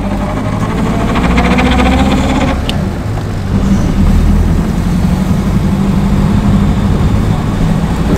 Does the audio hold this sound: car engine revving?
yes